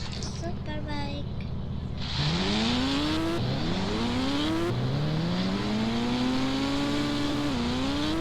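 A superbike engine in an Indian bike video game revs up repeatedly, each rising whine climbing in pitch through the gears, loud and close after a quieter start.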